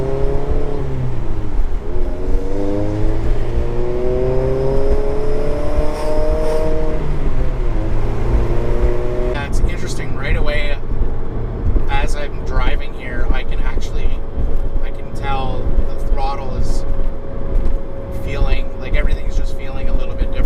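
A car fitted with a Fab9Tuning Stage 2 Versatuner tune drives along, its engine note sweeping up and down through the revs with a steady hum after the shifts, loud and close throughout.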